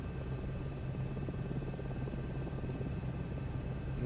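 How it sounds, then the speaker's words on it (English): A helicopter's rotor and engine drone steadily in a flight simulator game, flying at high altitude toward Mount Everest, with a dense, continuous buzz, fairly quiet and even throughout, with no voices. "This altitude is just messing with this helicopter"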